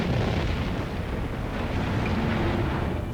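A deep, continuous explosive rumble rolls on for several seconds, dense and loud, with low booming energy and no quiet gaps.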